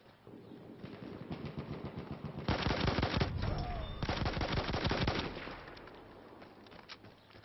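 Rapid bursts of automatic gunfire in the Battlefield 1 video game, dense volleys swelling loud in the middle then tapering off into scattered distant shots, with faint voices underneath.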